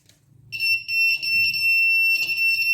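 A water tank overflow alarm buzzer sounds a steady, loud, high-pitched electronic tone that starts after a brief quiet moment and holds continuously, with faint handling noise underneath.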